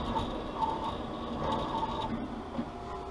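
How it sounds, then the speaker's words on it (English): An optical lens edger traces the rim of a Versace eyeglass frame, giving a quiet, steady mechanical whir with soft repeating clicks and gear-like ticks, close by and without speech. "it's going to go back and trace the peripheral of the frame to know exactly where to place the bevel so it fits best inside the frame"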